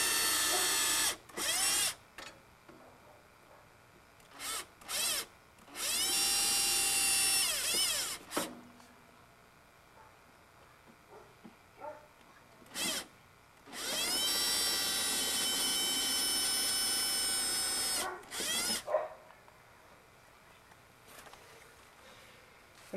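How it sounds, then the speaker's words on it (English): A power drill bores screw holes up into the wooden base of a dog's upright chair, several whining bursts of a few seconds each separated by quiet pauses, with short trigger blips and a longer run in the middle. "I'm going to reach in and just drill back up through the holes I drilled a few moments ago, and drill straight up into"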